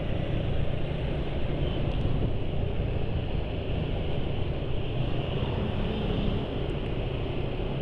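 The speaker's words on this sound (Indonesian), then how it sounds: "Jadi suara mesin halus dari pemakaian Mesran udah terbukti." A smooth, steady engine idles on Mesran motor oil mixed with cooking oil, giving an even, continuous hum and rumble with no knocking, close and constant throughout.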